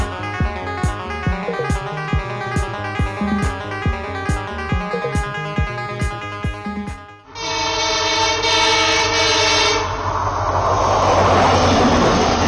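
A train runs through the Dooars along the Himalayan foothills, first with a rhythmic clatter and tonal sounds, then a loud, steady broadband rush that carries to the end.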